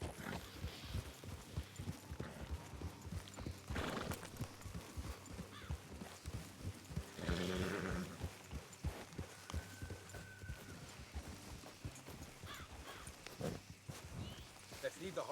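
Horses clip-clopping along at a walk with an occasional neigh in a western video game, hooves moderately loud amid ambient game sound while someone speaks over them.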